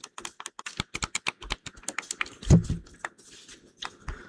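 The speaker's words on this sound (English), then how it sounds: "let's have a little listen of the buttons. Very quiet and sophisticated." Rapid, sharp plastic clicks from Meta Quest 3 VR controller buttons pressed in quick irregular bursts, close and crisp, with one slightly heavier thud partway through.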